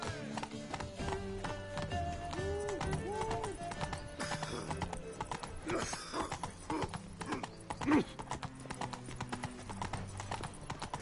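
Roach the horse galloping in The Witcher 3, hooves clip-clopping in a quick steady rhythm with a whinny, under game music and a voice.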